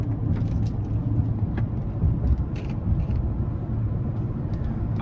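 A Tesla Cybertruck driving itself in the rain, heard from inside as a steady low road rumble and engine-like drone with faint hiss and soft knocks throughout.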